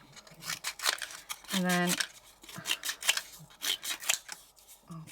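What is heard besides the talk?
scissors cutting up paper pieces for card making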